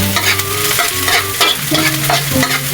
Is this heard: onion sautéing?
yes